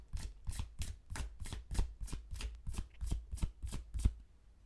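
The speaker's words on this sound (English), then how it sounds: "I moved the cards around, so I needed to check myself." Tarot cards shuffled by hand in a run of about a dozen quick riffling bursts at a steady rhythm, close and fairly quiet, with no voice.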